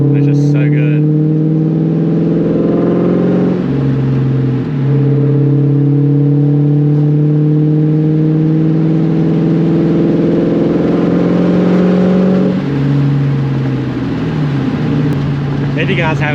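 A New Edge Ford Mustang GT with a catless X-pipe exhaust rumbles loud and close as it drives slowly, its deep steady drone rising and dipping with throttle changes throughout.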